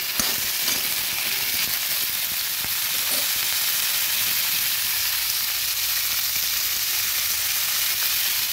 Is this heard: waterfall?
no